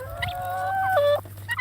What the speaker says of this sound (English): There's a guinea hen. That's a white guinea right there.